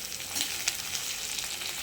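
Tomato, green chilli and onions sauté in a pan for a roasted gram curry, making a continuous close sizzle marked by a few faint clicks and stirring ticks, with no talking.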